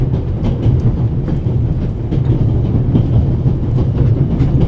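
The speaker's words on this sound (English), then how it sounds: "This train began in Paris and ends in Istanbul, as usual." Orient Express passenger train from the video game The Raven running on the line between Paris and Istanbul, a steady low rumble with rhythmic wheel clatter over the rails, continuous and close.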